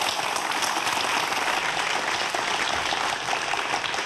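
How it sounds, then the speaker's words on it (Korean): An audience gives a lecture hall's guest speaker, a forensic science professor, a warm round of applause. The clapping is dense and even and carries on steadily without any talking. "여러분 큰 박수로 교수님 강의 부탁드리겠습니다"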